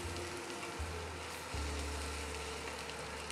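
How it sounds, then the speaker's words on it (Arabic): Onion and cauliflower sauté in a pan with a faint, quiet sizzle. A steady low hum in the kitchen sits beneath it, and there is no speech. "عم نلوح البصل مع الأرنبيت"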